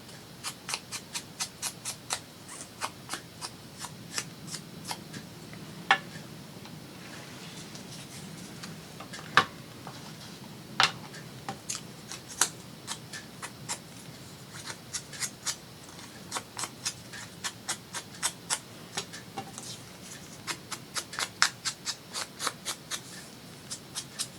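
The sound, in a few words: decollage scissors cutting paper edges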